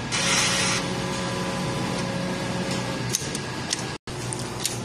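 A sublimation printer runs a head cleaning cycle, giving a continuous mechanical whir and hum with a brighter burst at the start and a brief cutout near the end.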